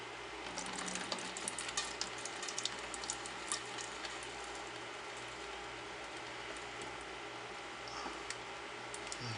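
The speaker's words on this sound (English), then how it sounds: "I'm going to drain it with my fryer screen" Microwave-cooked rice drains through a metal fryer screen, giving a steady wet hiss and patter of water with small clicks and taps. The sound is continuous and close, with no voices.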